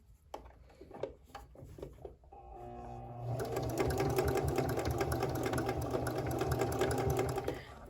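A Kenmore 385 series sewing machine stitching a stretch rickrack stitch on knit fabric. A few light clicks and taps come first, then the motor and needle run continuously in a fast, steady mechanical chatter up close.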